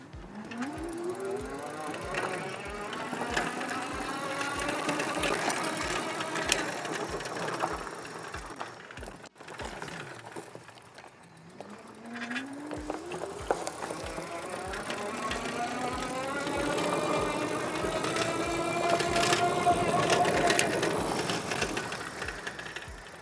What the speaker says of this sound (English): First off then, I'm going to use just the throttle.